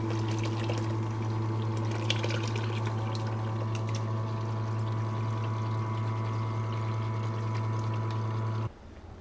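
A submersible pump runs steadily while flushing a tankless water heater, giving a constant humming drone with a watery pouring rush that continues for several seconds and then cuts off near the end.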